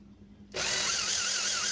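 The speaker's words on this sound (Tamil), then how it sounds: "இந்த ட்ரில்லிங் மிஷினை பொறுத்தளவுக்கு நம்ம ஒரே இதாக வந்து நம்ம அமுக்கிட்டே இருக்கக்கூடாது" Power drill boring holes into an STK4231 5.1 audio amplifier board, the motor kicking in suddenly after a quiet moment and then running steady and loud with a high whine.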